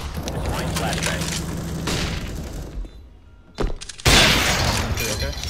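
A flashbang grenade going off in Counter-Strike: Global Offensive: a sudden loud bang after a short quiet gap, followed by a bright ringing wash, with players talking around it.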